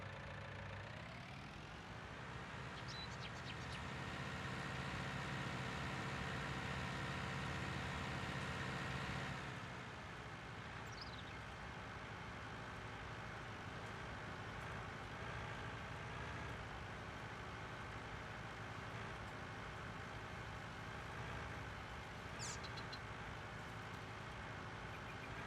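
Simulated tractor engine in Farming Simulator 19 on the Ravenport map, a steady droning hum with a low rumble that runs throughout, louder for the first several seconds before settling into an even level, with no talk.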